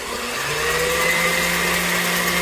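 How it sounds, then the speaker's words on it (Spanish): A kitchen blender motor runs continuously at high speed with a steady whine and hum, loud and close, no voices. "quitamos la tapita de la licuadora, ponemos y prendemos el motor"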